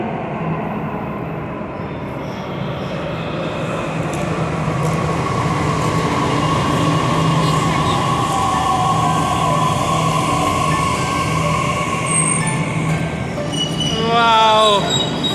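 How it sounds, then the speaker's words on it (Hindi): Delhi metro train pulling into a station, a steady rumble that grows louder as it approaches, then a rising wheel squeal and brake whine near the end, with a faint voice in the background. "ये देखो, ये अगली मेट्रो आ गई।"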